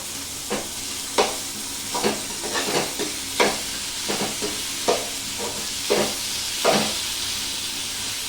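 Steady sizzling of tomatoes frying in a pan, with regular scraping knocks of a spoon stirring every second or so, close up.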